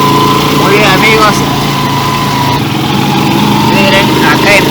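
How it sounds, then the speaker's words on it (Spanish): A 150 cc motorcycle fitted with a 125 carburetor climbs a hill, its engine droning steadily with a shifting whine and outdoor rumble throughout. "acá empieza otra subidaza y la moto está con su carburador 125, está subiendo de lo más normal"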